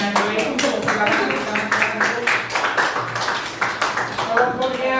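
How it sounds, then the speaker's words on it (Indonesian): A group claps for a presenting team at a university teacher-training class session, a dense patter of many hands running throughout, with voices mixed in. "kalau nggak ada tepuk tangan buat kelompoknya dulu"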